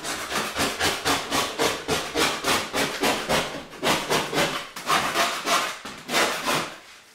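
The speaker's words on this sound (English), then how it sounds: "I'm just kind of scraping in here just to kind of get anything loose off" A putty knife scrapes loose material off a drywall wall in rhythmic rough strokes, about twenty in quick succession, loud and close, each a short gritty rasp with brief pauses between runs.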